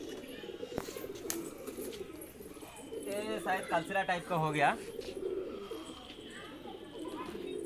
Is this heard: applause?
no